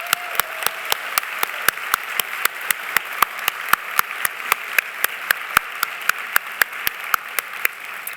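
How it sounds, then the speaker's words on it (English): Applause at a fall convocation ceremony, though it sounds more like one person's hands than a full audience: about thirty crisp, evenly spaced claps at a steady rhythm, close and clear against a quiet room. "Let's give them all a big round of applause."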